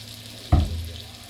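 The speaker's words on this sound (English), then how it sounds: "And you hear that sizzling now?" Asparagus hits a pan of butter and olive oil with a sudden loud splash of sizzle that settles into a softer steady frying hiss, close by.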